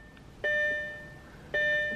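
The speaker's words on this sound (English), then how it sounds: "this is the old Audi chime" Ignition chime of a 2007 Audi RS4, two clear electronic gong-like tones about a second apart, each ringing out and decaying inside the quiet cabin.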